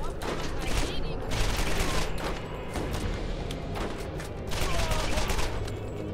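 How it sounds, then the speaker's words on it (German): Rapid, continuous rifle fire in the video game Borderlands, loud, dense bursts of shots with brief gaps, heard over game effects. "Ey, wie oft ich da drauf schieße."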